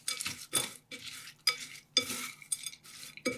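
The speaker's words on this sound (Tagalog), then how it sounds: "So, i-mix lang natin tong mabuti." Talong sisig ingredients with oyster sauce, kalamansi, mayonnaise and pepper being stirred in a bowl, a near series of scraping, clinking strokes in an uneven rhythm with short pauses between them.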